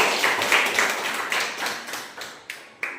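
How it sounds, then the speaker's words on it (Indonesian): Students in a class clap for a student group, a loose scatter of hand claps that starts fairly full and thins out into a few separate claps, fading by the end. "Tepuk tangan untuk kelompoknya Engji"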